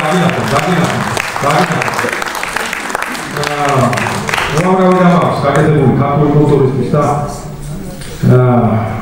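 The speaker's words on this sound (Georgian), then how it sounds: "მინდა აპლოდისმენტები დავუკრათ 50 წელი შეუსრულდა" Audience applause at a creative evening honoring a Georgian artist, steady clapping from a seated crowd that runs under a voice speaking over it through a microphone for most of the stretch.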